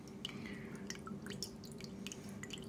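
Water drips through a Berkey gravity water filter, with a run of small, irregular, faint drops and light splashes over a steady low hum.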